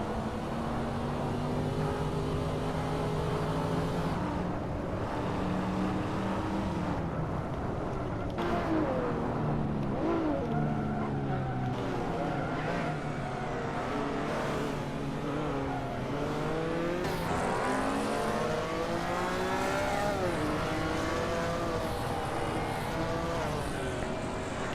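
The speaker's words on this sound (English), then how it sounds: "There's a very classic set of sports cars follow Phineas around the track at basically a crawl." Several classic sports cars circle a track at a crawl in a Hot Wheels video game, their engine drones overlapping in rising and falling pitches, steady and fairly loud throughout, with no talking.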